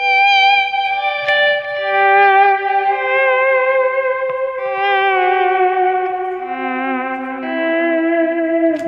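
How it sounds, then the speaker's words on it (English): Sustained electric guitar tones run through a Halo echo pedal, repeats feathering into a dense reverb-like wash, with bright layered harmonics gliding and shifting continuously and loud throughout, no talking. "the thing that makes this the Halo special is the way the echoes, they feather into each other and turns into"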